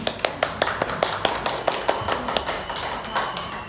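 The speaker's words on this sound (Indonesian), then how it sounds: "Beri tepuk tangan untuk Bu Fani." A small group claps in scattered, irregular taps at a school gathering, each clap sharp and close, loosely timed rather than a full unified applause.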